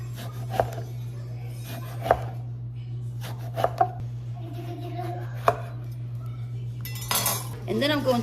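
A knife slices an eggplant into rounds on a cutting board, giving about six sharp, separate chops spread unevenly over the stretch, with light clinks of utensils and a steady low hum behind them.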